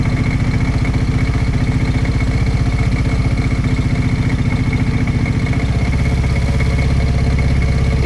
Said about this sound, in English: Just want to keep her idling here until it warms up a bit.